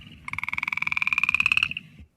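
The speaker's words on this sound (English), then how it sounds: "a really slow version of the upland chorus frog" A southern variant of the upland chorus frog gives one slow rising trill, about two dozen evenly spaced pulses over roughly a second and a half, clear and close against a low background murmur.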